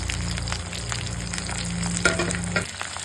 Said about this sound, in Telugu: తాలింపు బాగా వేగాలండి